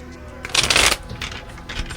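A brief riffle of playing cards being shuffled, a quick crisp flutter up close, followed by faint softer rustling.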